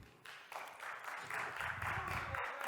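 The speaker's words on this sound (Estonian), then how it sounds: "Palun, aplaus!" Audience applause welcoming a workshop presenter, a steady faint patter of clapping that starts softly and builds a little, with some low crowd murmur underneath.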